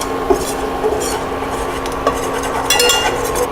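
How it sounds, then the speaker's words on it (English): A flour and butter roux bubbling and cooking in a pan for mac and cheese, with steady soft sizzle, a spoon scraping and stirring, and a few light utensil clicks against the pan. "Flour goes in, you can see the butter's bubbling, and that's fine. Cook this roux for about 30 seconds."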